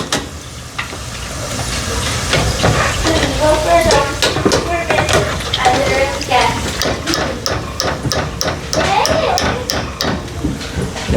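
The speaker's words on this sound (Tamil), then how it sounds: "இப்படி ஒன்று ஒன்றா பொரிக்க போகிறோனுங்க." Vegetables such as carrot frying piece by piece in hot oil, a steady close hiss and sizzle with bubbling crackle running throughout, while a person talks over it.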